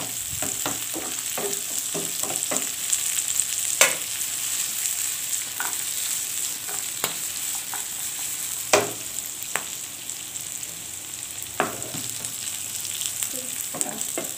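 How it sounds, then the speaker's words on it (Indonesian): Shrimp and spices sizzle steadily while being stir-fried for seblak, with irregular clinks and scrapes of a spatula against the pan over the continuous frying hiss. "mengsangrai di sini supaya aroma udangnya juga keluar"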